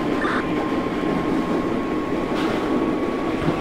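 A subway train in the openBVE metro simulator game rolls along steadily, a continuous loud rumble with a faint tonal hum running throughout, no pauses or voices.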